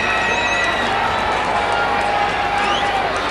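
At the Falles prize announcement in Alzira, a dense crowd cheers and applauds without a break, a loud wash of noise with shouting voices mixed in.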